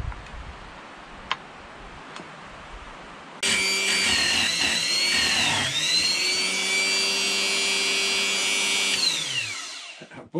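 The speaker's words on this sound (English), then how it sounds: "Bought this real cheap chain sharpener and it's working perfect." A cheap electric chain sharpener grinds a chainsaw chain, starting abruptly with a loud, high whirring whine that holds steady with slight pitch dips as the wheel contacts the teeth, then winds down and stops, after faint ticking beforehand.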